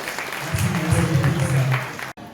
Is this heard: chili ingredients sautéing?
no